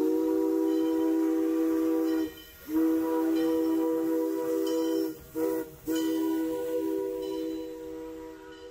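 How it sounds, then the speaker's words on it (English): A steam-era train arriving at a Crookston, Minnesota junction blows its whistle in long, steady, loud blasts broken by a few brief pauses, with no other sound on top. "The first engine crossed the junction and arrived in Crookston a few minutes later and blew its whistle"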